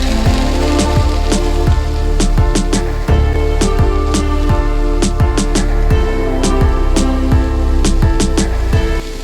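Chopped beetroot and green chillies are stirred in a pan, with rapid, irregular scraping and tapping of the spoon against the metal over a loud, steady background hiss.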